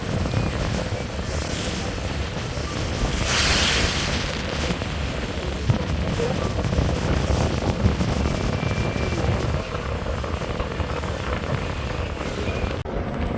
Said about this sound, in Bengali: বড় বড় ঢেউ এসে একটু পর পর কিন্তু আওলার দশ লঞ্চের হালে এসে আঘাত করতেছে এবং পানি দূরে ছিটে পড়তেছে